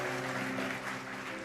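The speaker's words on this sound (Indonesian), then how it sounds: "Kasih tepuk tangan yang paling luar biasa." A church congregation applauds through a dense, continuous wash of clapping that stays steady and fairly loud.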